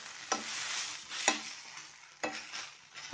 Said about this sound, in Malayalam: അതിനായിട്ട് നമുക്ക് ഇളക്കി കൊടുക്കാം.